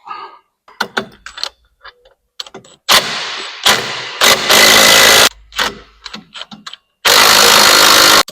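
An impact gun tightens bolts on a car mount in a workshop, firing a few loud, sharp bursts of rapid hammering between quieter clinks and handling noises.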